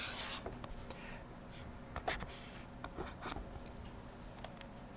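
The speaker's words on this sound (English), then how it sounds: "I'm going to write it up here" Quiet marker or chalk strokes on a classroom board, with short scratching lines and taps spread over a few seconds against a low background hum.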